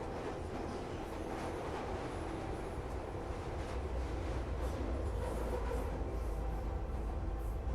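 A train runs along rails in the game Fallout: London, giving a continuous loud rolling rumble with rhythmic clattering and faint squeals throughout.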